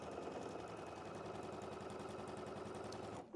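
A domestic sewing machine runs steadily, stitching quilt block pieces together for a flowering-themed block, its rapid needle chatter holding nearly constant and close for about three seconds before stopping abruptly.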